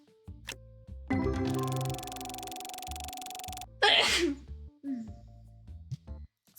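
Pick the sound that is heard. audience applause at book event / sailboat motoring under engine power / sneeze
sneeze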